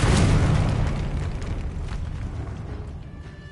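A Confringo fire spell explodes in the video game Hogwarts Legacy: a loud, close blast with a rumbling burst that slowly fades over a few seconds.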